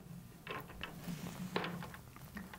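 A drum tuning key turns a tension screw on a snare drum, giving faint, close, intermittent little clicks and creaks of metal threads in a quiet room.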